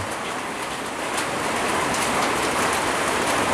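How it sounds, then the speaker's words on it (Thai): Steady rain pours down under a dark sky in a Thai village during an unusually wet October, a dense, even hiss of drops striking surfaces that carries on unbroken and fairly loud throughout, with no voices. "ปกติเดือนตุลาฝนสิเบิดแล้วครับแต่ว่าปีนี้บ่หันเบิด ตกตลอดเดือนเลย"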